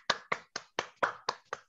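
Seven sharp, evenly spaced hand claps from a single person, close and fairly quiet, with no voices.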